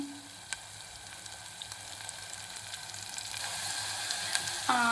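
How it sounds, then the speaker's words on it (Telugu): Onions with ginger garlic paste cook in a pan, giving a quiet, even sizzle that slowly grows a little louder, with a couple of faint knocks from stirring and no talk. "ఉల్లిపాయలు అల్లం వెల్లుల్లి పేస్ట్ బాగా మగ్గినాక"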